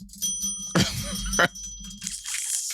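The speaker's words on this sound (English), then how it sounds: "I don't have theme music, but I had this bell." A small bell rings up close, its sustained metallic tones hanging over a few sharp rattling bursts.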